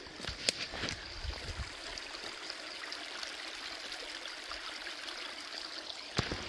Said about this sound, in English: I'm walking right by the creek.